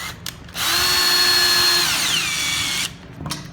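A power tool whines loudly for a few seconds while driving anchors into an insulated metal panel wall, then falls quiet.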